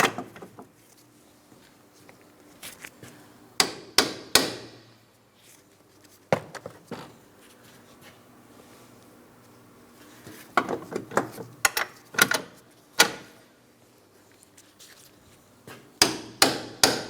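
Metal strut mounting bolts on a Pontiac Grand Prix being tapped into place with a hammer: sharp, ringing strikes in short bursts of two to four, separated by quiet pauses and small handling clatter.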